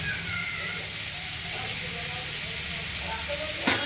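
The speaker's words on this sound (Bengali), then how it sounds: "এই সরু সরু করে ফালি করা কুমড়োগুলোকে ভেজে দেবো" Thin pumpkin slices sizzle steadily in hot oil in a kadai with mustard seeds and green chilli, a continuous frying hiss with a brief louder crackle near the end, heard without talk.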